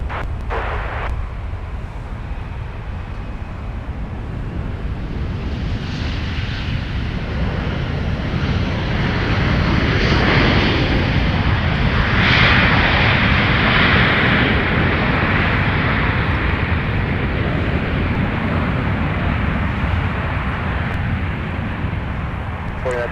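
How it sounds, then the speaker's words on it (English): Loud jet airliner engines at Minneapolis–Saint Paul airport, CF6-80 turbofans, a broad continuous roar holding steady for over twenty seconds, close and dominant. "Those CF680s are loud."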